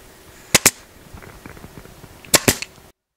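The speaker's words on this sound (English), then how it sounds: "So now we're attaching the border to the top of the headboard, stapling all the way along" A staple gun fires into a headboard to attach its border, with two sharp pairs of loud snapping shots separated by quieter tapping and handling noise.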